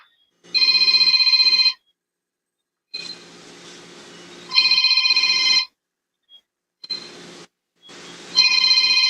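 A telephone rings in repeated electronic bursts on a call-in talk show, loud and close, with gaps of silence between rings and no talk over it.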